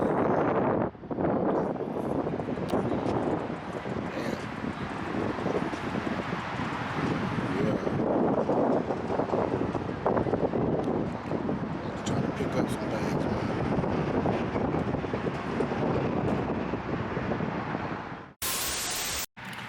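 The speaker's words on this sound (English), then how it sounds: "Got a lot of wind down here." Strong wind blasts across an outdoor microphone in continuous loud, rumbling gusts with a harsh roar for most of the stretch, then cuts off abruptly near the end.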